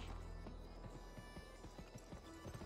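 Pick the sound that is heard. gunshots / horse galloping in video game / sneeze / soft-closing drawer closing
horse galloping in video game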